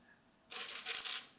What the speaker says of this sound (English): I'm trying not to shuffle through the pieces to avoid annoying everyone's ears.